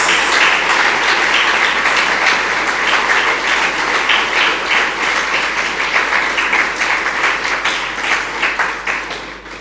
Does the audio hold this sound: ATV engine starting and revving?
no